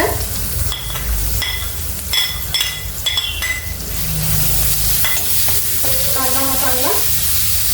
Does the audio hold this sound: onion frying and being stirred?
yes